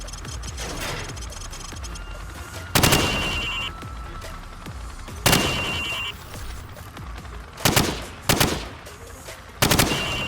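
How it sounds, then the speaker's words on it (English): Video game gunfire at shooting-range targets, fired from the hip: sharp, loud bursts of shots in irregular clusters with brief gaps, some doubled in quick succession, over a constant background hum and no voices. "Now shoot at the targets while firing from the hip."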